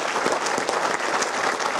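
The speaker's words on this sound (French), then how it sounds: "vous demander de vous lever pour observer une minute d'applaudissement" A crowd at a French football match, Avenir Foot Lozère against Chamalières, applauds as a remembrance tribute, steady dense clapping throughout, loud and continuous.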